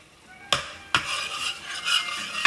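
Flour and butter are stirred into a roux in a pan, with two sharp utensil knocks against the pan followed by scraping and a soft sizzle, close and clear.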